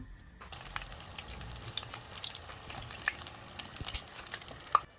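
Chilli bajji batter dropped into hot oil, giving a faint bubbling sizzle that starts suddenly after a moment of quiet and carries on with scattered crackles and pops.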